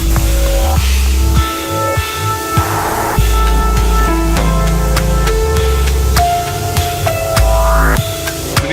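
Hissing water spray blasting steadily over a Range Rover Velar to coat its door handles in ice, a loud continuous rush with shifting tone and no voices.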